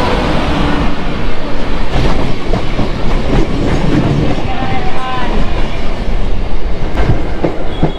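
Heard from inside a carriage, a Howrah–Tarakeswar suburban local train runs toward Sheoraphuli, its loud steady rumble and rhythmic wheel clatter continuous throughout, with faint squeals rising above the din.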